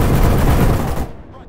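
Sustained, loud video-game gunfire from Arma 3 in a military combat mission in Takistan, a dense burst of rapid automatic shots for about a second that cuts off and fades into a short tail.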